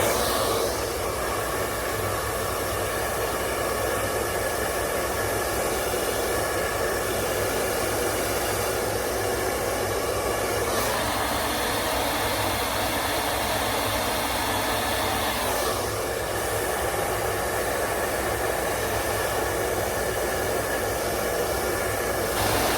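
A blow dryer runs continuously while drying hair over a round brush, a loud steady whoosh with brief dips and shifts in pitch as the airflow changes, no talking.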